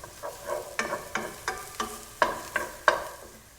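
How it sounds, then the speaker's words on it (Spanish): Chopped garlic frying in a pan for a classic red spaghetti sauce, with onion already softening. Short sizzling bursts come with each stir, roughly every half second, close and clear with no talking. "vamos a agregar un ajo picado y lo vamos a sofreír."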